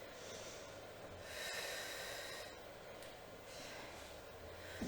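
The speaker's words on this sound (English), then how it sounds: "Exhale through the mouth." Breath pushed out through the mouth in a live circuit workout, a soft airy exhale that swells and eases over several seconds, heard up close over quiet background with no talking.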